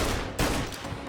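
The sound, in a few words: gunfire in the video game Mafia: Definitive Edition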